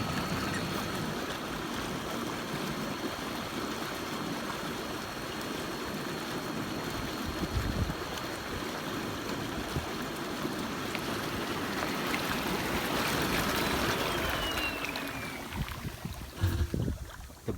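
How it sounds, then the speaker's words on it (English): A Bestway Palm Springs six-person inflatable hot tub runs its bubble function, a steady dense rushing and churning of water that fills the whole span at moderate level with no talk. "Unlock it and then press the bubbles."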